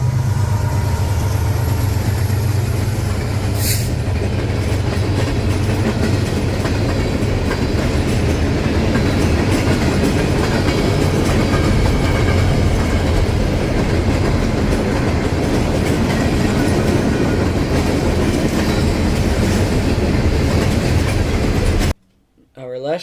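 Norfolk Southern freight train NS 143 with a pair of BNSF locomotives rolls past close by, a loud continuous rumble with wheel clickety-clack and a brief high squeal, cutting out abruptly near the end.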